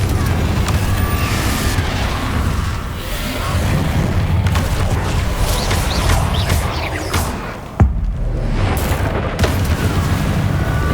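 Loud, continuous magical blasts and explosive booms from Confringo and other combat spells in the Hogwarts Legacy video game, forming a dense roar with a sharp impact near the end.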